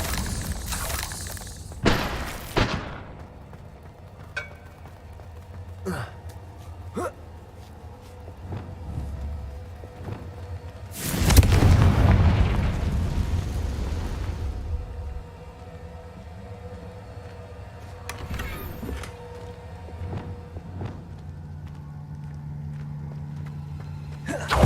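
A Confringo explosion spell in the Hogwarts Legacy video game goes off as a loud, rumbling blast lasting several seconds midway, set among scattered sharp game impacts, footsteps and a sustained low tone.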